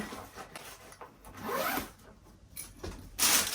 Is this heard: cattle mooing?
no